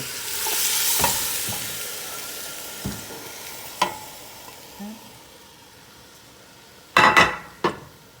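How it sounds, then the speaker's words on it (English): Vegetables go into a pot of braised oxtail stew: quiet stirring and faint sizzling, a few light taps against the pot, then a burst of louder clattering and scraping near the end. "I'm gonna go ahead and start adding our veggies for our stew."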